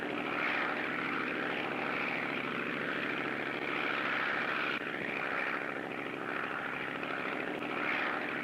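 A propeller airplane drones steadily overhead, a loud continuous engine hum with a slight wavering throb, with no voices.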